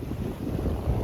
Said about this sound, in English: Waves kind of picked up a little bit.